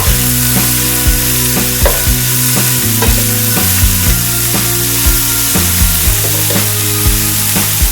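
Winged beans stir-fried in a pan for a palya, loud close spatula scrapes and clanks in an irregular rhythm over a continuous sizzle, no voices.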